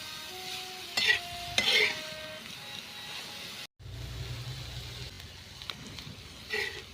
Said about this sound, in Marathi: एक 5 मिनटं आपल्याला चांगले असे सतत ना परतून घ्यायचे आहे.